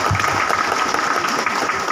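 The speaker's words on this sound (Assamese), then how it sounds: "তেখেতক আমি সকলোৱে হাত চাপৰিৰে আদৰি জনাব লাগে।" Audience applause welcoming an MLA at a BJP gathering, a steady dense wash of clapping held at even loudness for about two seconds with no talk over it.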